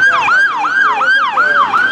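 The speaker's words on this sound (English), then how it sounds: "Fire truck making all that noise." A fire truck siren wails past an outdoor farmers market in the Ozarks: a loud, steady up-and-down sweep repeating about five times in two seconds, with faint road traffic underneath.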